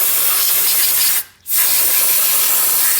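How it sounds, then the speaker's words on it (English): Compressed air from a line at about 100 PSI blasts dust out around a spark plug on a 2004 Chevy Suburban: a loud, close, steady hiss that cuts out briefly for a split second and then resumes. "we're going to use some compressed air to clean out the area around the spark plug"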